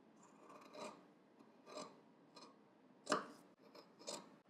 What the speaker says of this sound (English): for the lapel tip, we're just going to trim some of that